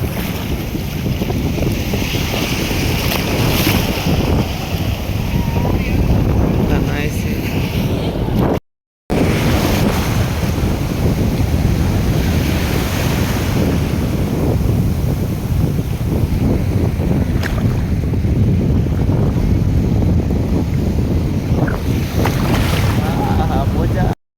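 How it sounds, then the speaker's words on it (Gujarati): Steady wind and surging sea waves roar loudly and continuously at a beach near the Nishkalank Mahadev shore at Koliyak, with a brief dropout midway and faint voices underneath. "મસ્ત મજાનો દરિયો"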